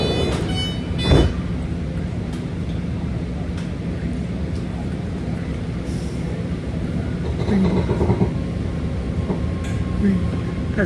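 A six-car BART commuter train rumbles and rattles as it pulls away from San Leandro station, steady rolling noise with faint clicks and a soft squeal, fairly loud and constant.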